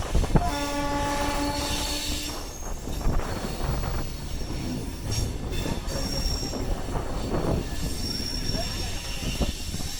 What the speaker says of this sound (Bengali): আর এই যে বেরিয়ে গেল কিং বন্দে ভারত।